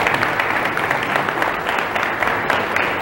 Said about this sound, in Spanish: Vamos a brindar este fuerte voto de aplausos, por favor.